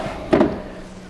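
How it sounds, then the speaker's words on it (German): A drawer in the storage area of a 2022 Mercedes Kabe Imperial I 810 LGB luxury motorhome slides with a single short, close thump-and-rattle, then quiet. "Und ich kann mal zeigen, hier auch eine Schublade"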